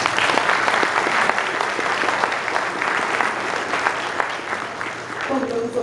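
Steady applause from an audience honoring award recipients at a Brigada Militar ceremony, dense, continuous clapping that fills the whole stretch at an even, fairly loud level.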